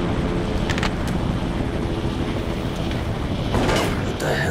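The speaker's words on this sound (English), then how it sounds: "Sounds like a chopper." A helicopter approaching in the video game Resident Evil: Operation Raccoon City produces a continuous, loud rotor and engine drone, with brief sharper noises cutting in over the steady roar.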